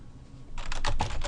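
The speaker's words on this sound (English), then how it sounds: "I can now type the name, order totals." Close typing on a computer keyboard in a spreadsheet, a short quick run of soft key clicks starting after a brief quiet moment.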